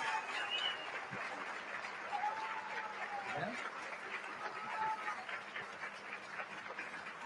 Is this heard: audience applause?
yes